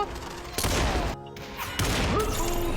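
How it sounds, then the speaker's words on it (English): Gunfire in the VR battle royale Population: One, bursts of loud, dense shots and impacts filling the whole stretch, with a short lull near the middle, under occasional voices talking. "Two guys shooting."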